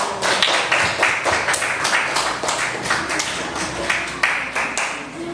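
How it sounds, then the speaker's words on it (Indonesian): A classroom of students claps together for a student group returning to their seats, a series of sharp, fairly close hand claps with a loose rhythm that lasts several seconds, with no one speaking. "Beri tepuk tangan semuanya"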